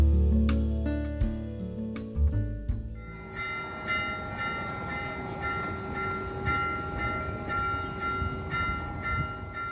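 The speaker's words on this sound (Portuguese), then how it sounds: "é possível chegar na cidade de trem, com a famosa Maria Fumaça que liga as duas cidades" The Maria Fumaça steam train rumbles heavily up close at first, then gives way to a sustained ringing, bell-like metallic tone with steady hum and rattling underneath, no voices present.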